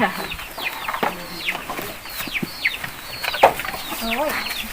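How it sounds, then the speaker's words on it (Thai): Laying hens clucking on a farm, with several birds giving overlapping short clucks and rising calls, close by against a busy outdoor background with no clear talk. "อันนี้ไก่เพิ่น ไก่พันไข่นะครับอยู่เทิงๆ"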